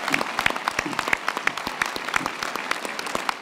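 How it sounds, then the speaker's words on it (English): Audience applause at a university winter graduation ceremony, given for the promoters: steady clapping from many hands in a large hall, dense and continuous with sharp individual claps standing out throughout. "let's give a round of applause to the promoters"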